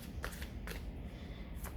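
A deck of tarot cards being shuffled by hand, giving a few quick, soft riffling bursts close by against a quiet room, with no talking.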